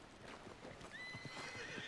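A horse in the video game Red Dead Redemption gives a clear whinnying neigh over soft clip-clop hoofbeats. It is fairly quiet and stands alone with no talk.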